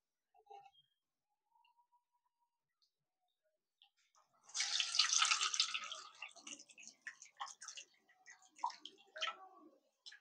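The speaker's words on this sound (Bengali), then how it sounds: "তো এক্সট্রা জলটা খুব সুন্দরভাবে আমি ঝরিয়েও নিয়েছি।" Whey water drains from chhena curdled with sour yogurt. After near silence, a soft trickle and splash starts and fades into scattered faint drips, all quiet and close.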